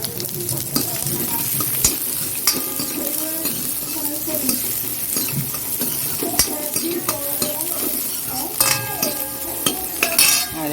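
Onion frying in oil and being stirred into dal in a home kitchen, a continuous sizzle with repeated scraping and clacking of a spoon against the pot, close and fairly loud, no voices.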